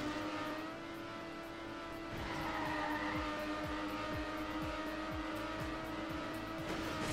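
A car in TrackMania Nations Forever drives around a track at an easy pace with a steady, moderately loud engine drone and repeated short tire ticks or bumps, no voices.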